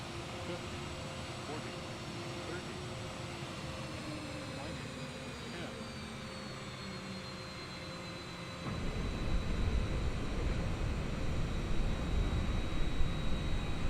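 A simulated airliner landing in Microsoft Flight Simulator 2020, on a LOT Polish Airlines flight into Munich: a steady jet engine whine, joined partway through by a louder rumble of rolling on the runway, with talk over it.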